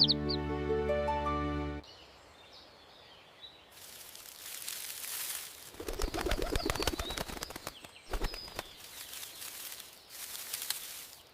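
Cartoon sparrows chirp and twitter in quick bursts after a short musical phrase, mixed with fluttering wing sounds and soft rustling, fairly close and lively.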